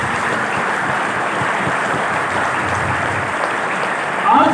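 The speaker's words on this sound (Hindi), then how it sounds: "आप उसके लिए तालियां बजा सकते हो" Sustained applause from a large audience at a Vestiges business event in India, a dense, steady wash of clapping at even loudness throughout, with a slight swell at the very end.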